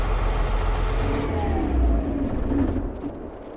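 A tractor engine in Farming Simulator 22, a row-crop-drive model with a front 3-point hitch, drones in a loud, steady low rumble that holds throughout and eases slightly at the end.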